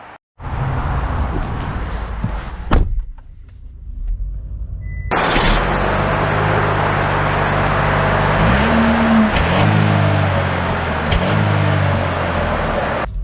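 2023 GMC Terrain being driven: a door thunk, then a steady engine and road-noise hum inside the cabin with a few soft chime-like tones rising and falling over the drone.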